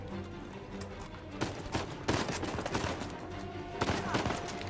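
Gunfire in the Uncharted 4 video game: a steady background of rapid shots, with sharper, louder bursts cracking out at irregular intervals.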